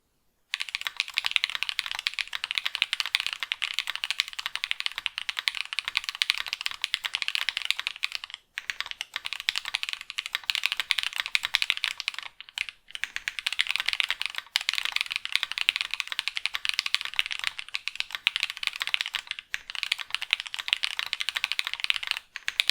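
Continuous typing on a mechanical keyboard with lubed switches, smooth and muted keystrokes at a fast steady pace, close and fairly loud, with brief pauses.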